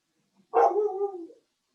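A single short dog bark, loud and close, rings out once during a quiet online meeting and then stops.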